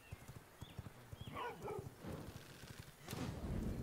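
Horse hooves clip-clop in a steady rapid rhythm in V Rising, the dark fantasy game, with a brief whinny in the middle and a thud near the end, all fairly close.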